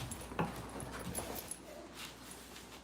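A pet dog whimpers and whines softly in a home setting, a few faint high yips over steady room noise.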